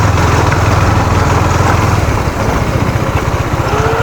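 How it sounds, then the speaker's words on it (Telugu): A motorcycle climbs a steep hill road toward a viewpoint above the fishing harbour in Vizag, its engine a loud, continuous low throbbing drone with a steady rhythm close by, and no talking. "ఇలా పైకి కూడా బైక్ వేసుకుని వెళ్ళొచ్చో లేదు చూద్దాం."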